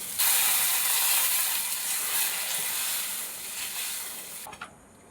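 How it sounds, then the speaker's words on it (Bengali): Water poured into a hot pan of spiced potatoes brings a loud, close, steady sizzling hiss that slowly fades and then cuts off near the end. "এবার দিয়ে দেবো জল"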